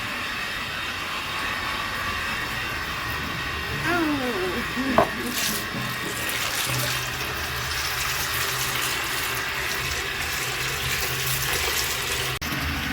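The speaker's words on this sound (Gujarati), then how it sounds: "મોટર ચાલુ કરી દીધી ને પાણી ભરી લઈ." Water fills from a tap, pushed by an electric motor pump, making a steady loud rushing flow that runs continuously from start to finish, with a brief clatter partway through.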